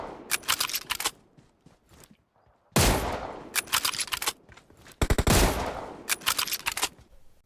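In PUBG Mobile, loud sniper-rifle gunfire rings out in three sharp groups of rapid cracks, separated by short pauses with quieter stray shots.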